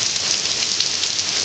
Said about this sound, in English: Doesn't look like we're gonna see any let up in this rain